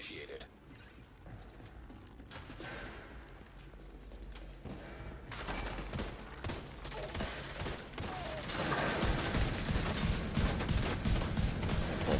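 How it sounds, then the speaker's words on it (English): Rifle fire in The Division 2, inside an echoing indoor space, comes in rapid rattling bursts that swell louder toward the end, with a voice speaking over it. "Oh, my rifle sounds super loud in here."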